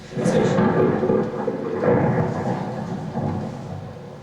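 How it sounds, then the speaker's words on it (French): Thunder rumbles through a stormy evening scene in a French stage play, a broad continuous roll that swells early, eases, then builds again, with a faint voice at the edges. "Oh, quel tonnerre! Non. Il va y avoir de l'orage."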